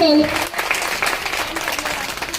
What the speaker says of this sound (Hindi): सभी से निवेदन है कि सभी लोग खुले दिल से इनका भी ताली बजाकर स्वागत करें